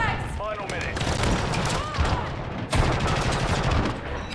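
Dense Modern Warfare 3 gunfire rattles nonstop in bursts and fusillades during a multiplayer match, loud and close, with a voice talking over the shooting.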